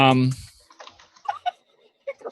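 Computer keyboard typing comes as scattered clicks and short bursts, with a voice at the start and faint talk mixed in.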